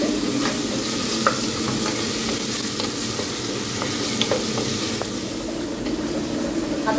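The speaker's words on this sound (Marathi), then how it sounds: "मग हे एकसाथ थोडे फ्राय करायचे" Onions and tomatoes fry together with a little salt, a loud, continuous sizzle broken by frequent small knocks and scrapes as the mixture is stirred.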